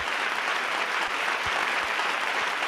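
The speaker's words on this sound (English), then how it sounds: "let's give a big round of applause to Mr. Robert Roman, everybody" Audience applause for presenter Robert Roman at a Lowrey organ product features class: a steady, dense wash of clapping from a crowd, even in loudness throughout with no voices over it.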